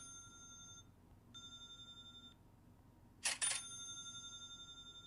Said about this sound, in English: you can now send them instead of a ping, a cha-ching.